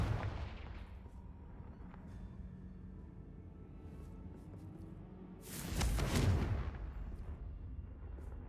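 A Confringo fire spell explodes in Hogwarts Legacy, a game set at Hogwarts: a loud, rushing blast bursts out after a long stretch of low ambient rumble, then fades back into the background.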